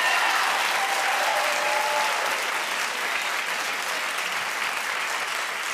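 Studio audience at a daytime talk show clapping steadily, a dense, even wash of applause that holds at full strength for several seconds with no voices over it.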